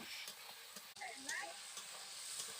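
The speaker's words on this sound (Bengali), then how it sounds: "এবার মশলাটাকে একটু ভালো করে কষে নিচ্ছি" Spice masala with salt is sautéed in a pan for a vegetarian okra and potato dish, giving a soft, close sizzle with scraping stirs from a spatula.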